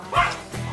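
A puppy gives a short yip or bark, quick and close, amid room noise.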